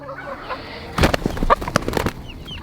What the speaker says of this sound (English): Oh no, this rooster has lost his mind. He's attacking me.